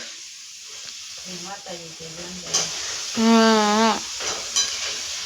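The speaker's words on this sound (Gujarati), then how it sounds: "મમ્મી શીપ બનાવી છે અને તળતા હોય છે" Homemade potato chips fry in hot oil with a steady crackling sizzle, while voices talk briefly over the bubbling.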